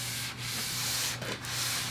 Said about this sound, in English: Sanding a surface to 600.